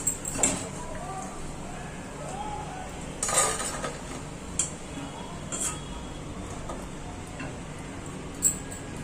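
Fried vadas for dahi vada are moved onto a plate with scattered clinks and taps of utensils against metal and ceramic, while a voice talks in the background.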